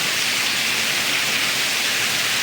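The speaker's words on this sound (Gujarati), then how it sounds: "જબરજસ્ત વરસાદ પડ્યો" A dense, steady roar of heavy rain pours down without a break, loud and close, with no voices.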